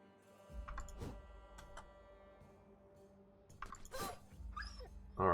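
A dog in the Battle Brothers video game gives sharp, isolated yelps and growls, several brief bursts spaced out over quiet game ambience with faint ticking.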